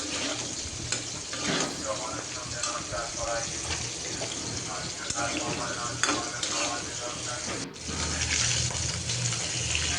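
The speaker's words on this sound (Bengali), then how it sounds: "আর এই তো পটল আলুটা যে রান্না করব, পটলটা আমি তেলে ভেজে নিব।" Pieces of pointed gourd (potol) sprinkled with salt fry in oil, making a continuous close sizzle mixed with watery crackle and occasional clatter, with a louder surge near the end.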